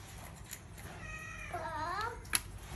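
A cat meows once in a long, rising-then-falling wail, fairly close and clear over low background noise, followed by a brief sharp knock.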